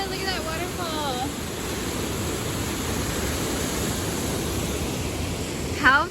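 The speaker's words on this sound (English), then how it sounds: "Whoa, look at that waterfall." Steady broadband rush of a waterfall along the San Antonio River Walk, a constant mid-distance roar with no breaks, with a few faint voices and chirps near the start and end.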